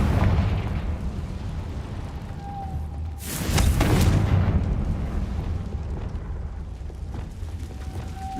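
A Confringo fire spell bursts in the Hogwarts Legacy video game, one loud booming blast with a crackling tail that fades over a few seconds, set against a steady low game ambience with a faint high chime.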